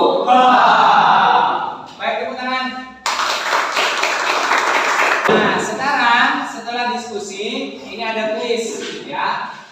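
A classroom of students bursts into a short round of applause for about two seconds in the middle, with a teacher speaking before and after it.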